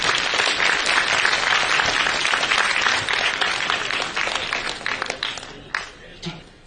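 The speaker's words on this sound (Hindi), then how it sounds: "एक बार फिर करतल ध्वनि से हम अपनी सहभागिता दें, जोरदार तालियों के साथ" An audience at an award ceremony in an indoor hall applauds loudly and steadily, a dense wash of clapping that thins out toward the end with a few scattered claps.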